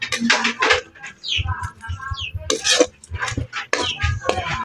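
Shrimp are dropped into a pan and stirred for ginataang papaya, with close clinks and scrapes of a utensil against metal in irregular bursts, while a person speaks over the cooking.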